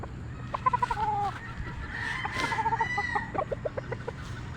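A golden boy sweater gamefowl rooster on a game farm clucks in quick rhythmic bursts and lets out a crow, fairly close, over a low steady background hum.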